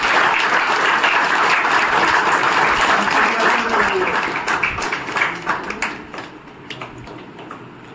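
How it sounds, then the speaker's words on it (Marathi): An audience applauds a student honoured for excelling in the 400-metre race, a dense burst of clapping at a village school event that is loud at first and then thins out into scattered claps. "त्यांच्या सर्वांनी जोरात टाळ्या वाजवून आपण बोलतो"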